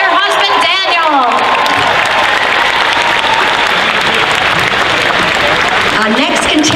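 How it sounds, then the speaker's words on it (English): A convention audience at a Friday night costume contest claps and cheers loudly for a contestant couple, dense applause with scattered whoops, and a voice briefly heard at the start. "Big round of applause for Jessie and her husband, Daniel."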